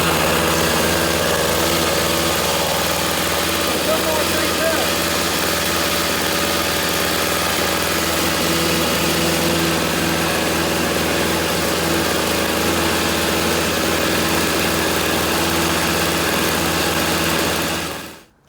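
An old 1997-1998 snowblower engine runs at a steady idle, a continuous buzzing drone with a constant pitch held close and loud for the whole stretch before cutting off abruptly at the end.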